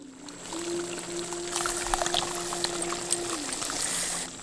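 Dissolved tamarind water is poured steadily into a simmering masi karuvadu (dried tuna) kulambu, making a continuous splashing pour that runs for several seconds without talk.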